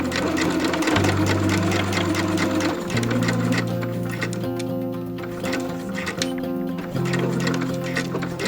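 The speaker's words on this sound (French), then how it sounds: "on va commencer par la couture de ce short Eva" A sewing machine stitches a pair of shorts, running loud and close with a fast rhythmic mechanical chatter. It pauses briefly and changes pace between bursts, and music plays underneath.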